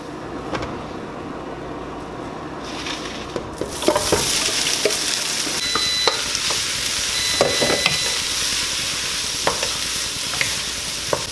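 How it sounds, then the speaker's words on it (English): Cajun trinity of onion, celery and bell pepper frying in leftover sausage grease in a pan: a continuous hiss and sizzle that jumps louder as the vegetables go in, with scattered stirring scrapes and clicks, and no voices. "The sausage just left a good amount of grease in there, which I'll cook the trinity in."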